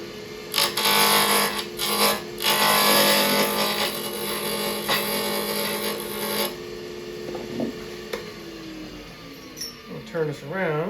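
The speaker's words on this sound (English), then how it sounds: "I want to cut a tenon here and then reverse chuck this." A wood block spins on a lathe while a tool cuts a tenon, giving a loud, steady scraping and rasping with short bursts. The cutting cuts off partway through and the motor winds down.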